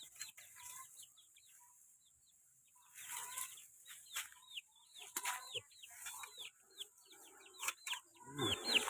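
Chickens clucking and squawking in a coop by a bamboo clump, a scattered run of clucks that is quiet at first and then grows busier and louder, with wing flaps near the end.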